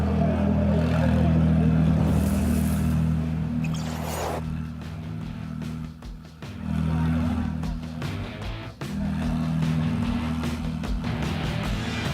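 Ferrari Challenge Trofeo Pirelli Australasia race cars at Mount Panorama, Bathurst, with a steady loud engine drone and shifting revs under a continuous commentator voice.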